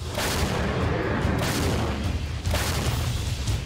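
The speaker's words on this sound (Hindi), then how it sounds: "तोपों का दम दिख रहा है।" Heavy artillery cannon fire in the Russia-Ukraine war, repeated booming blasts over a constant dense roar, loud and sustained.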